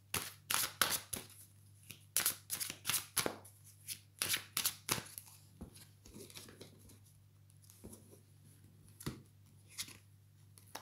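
Tarot cards being shuffled and drawn, a run of crisp riffling bursts in quick succession through the first five seconds, then quieter sliding and a few more flicks, close and alone over a low steady hum.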